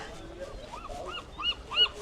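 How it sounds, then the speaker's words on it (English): Soft bird calls at Alcatraz Island, a few short rising chirps fairly far off, faint under a quiet outdoor background, with a brief voice nearby. "Yeah, bird."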